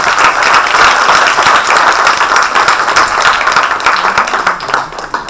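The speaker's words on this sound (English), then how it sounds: "let's have a huge round of applause for Ritu." A crowd at a book launch gives author Ritu Soni Bhagat a loud, dense round of applause, steady and close, sustained the whole way through with only a slight easing near the end.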